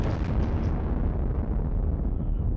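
Artillery fire in the war strategy game Sealion '40, with 150 mm guns, gives a loud continuous rumble of booming blasts that fade out, and no voices.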